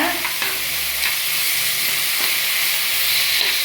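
Onions, green chilies and a handful of mint sauté in a hot pan for vada curry, giving a loud, continuous close-up hissing sizzle with faint stirring scrapes running beneath it.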